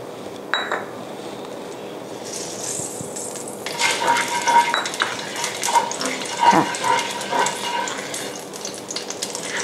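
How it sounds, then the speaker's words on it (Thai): Ginger and pork sizzle in a hot pan while a utensil scrapes and clinks against it, the frying growing louder as stirring picks up. "ตอนนี้กระทะร้อนแล้วเราจะทำการ ผัดขิงกับหมูก่อนนะคะ"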